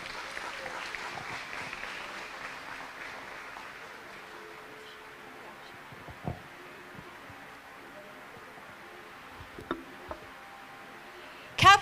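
Audience applauding at a senior school graduation ceremony, scattered clapping that is louder at first and then thins to sparse, faint claps over the following seconds, with a sharper knock near the end.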